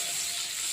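Onion hits a hot frying pan already holding fried potato and egg, giving a steady bright sizzle that stays even for a brief moment and ends with a small bump.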